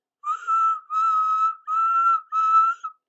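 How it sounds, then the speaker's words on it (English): A steam engine whistle sounding four times in a row, each blast a sustained tone of about half a second with short gaps between them, clean and clear. "from far away an engine whistled"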